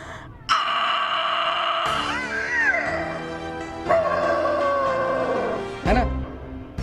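A voice imitates a door creaking open, a drawn-out wavering creak rising and falling in pitch over several seconds, loud and close, broken into a few squeaky sweeps.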